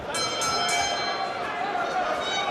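A boxing ring bell rings at a live fight, three quick bright clangs at the start over a busy arena crowd, with a commentator talking throughout.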